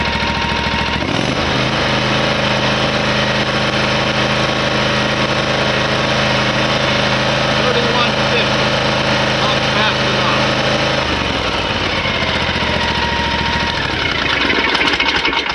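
A small engine on outdoor power equipment runs loud and steady at a fixed throttle, a constant buzzing drone that shifts to a thinner, higher tone toward the end.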